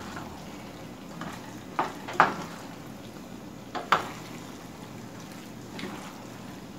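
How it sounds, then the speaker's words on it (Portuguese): A spoon stirs creamy pasta with broccoli sauce in a pan, giving a few distinct metallic clinks and scrapes over a soft, steady background. "Olha só, gente, como que fica esse macarrão super cremoso. Vamos misturar muito bem aqui agora."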